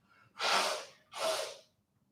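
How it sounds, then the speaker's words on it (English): A person blows their nose in two forceful, breathy bursts close to the microphone, the second a little shorter than the first, then silence. "There's someone on the channel who's really offended by me blowing my nose"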